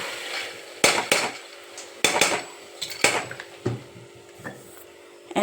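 Green gram gravy stirred in a metal cooking pan, a ladle scraping and knocking against the pan in irregular clanks and rubs, close and fairly loud, with quiet pauses between strokes.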